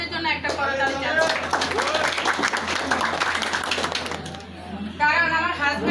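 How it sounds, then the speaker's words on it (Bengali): Audience applause at a speaking event, a steady wash of clapping from a crowd of moderate size lasting several seconds, framed by someone talking at the start and end. "আমি আমার হাজব্যান্ডের জন্য একটা করতালি চাচ্ছি"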